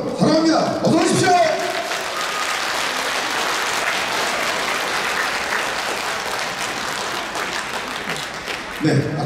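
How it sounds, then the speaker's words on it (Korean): An outdoor audience at a Seoul folk performance ground welcomes the host with warm applause and cheering, a dense sustained wash of clapping between brief stretches of an announcer speaking at the start and end. "아까보다 우려와 같은 함성과 함께 뜨거운 박수 환영 너무 감사드립니다"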